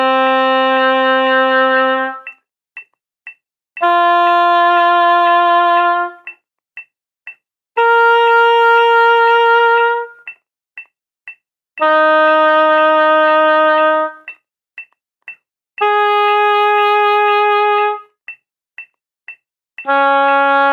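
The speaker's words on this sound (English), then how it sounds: "The first step is to play the first note of the scale as a long tone." A wind instrument holds the first note of a scale as sustained long tones, several separate steady notes of about two seconds each with short gaps between them, clear and alone with no talking.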